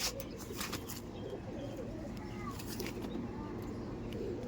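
Tame, egg-laying red-tailed Rampuri pigeons coo softly in a loft, their low calls repeating over a busy background of shuffling and ambient noise.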